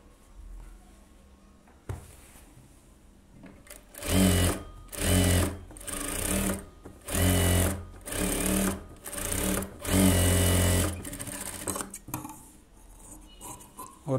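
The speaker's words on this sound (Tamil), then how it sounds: "வரைஞ்சது மாதிரியே தைச்சிக்கலாம்." A sewing machine stitches a silk pattu pavadai in about eight loud, evenly spaced bursts of rapid whirring, each lasting about a second, separated by short pauses, with quiet room sound before and after.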